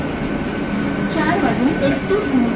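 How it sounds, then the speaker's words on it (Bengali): A steady rumble fills the space, the sound of riding inside a Mumbai AC local commuter train near Goregaon, with people talking faintly over the constant background noise. "এটা হচ্ছে মুম্বাইয়ের এসি ট্রেন"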